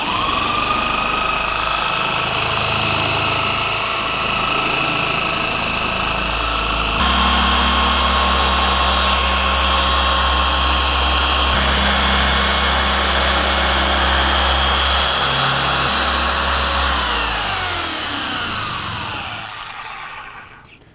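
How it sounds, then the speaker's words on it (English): A power polisher buffing car paint whines steadily at low speed, then steps up to a louder, higher-pitched drone at high speed before winding down at the end, continuous and close with no talking. "we'll bump it up to the high speed setting where we're actually doing our polishing"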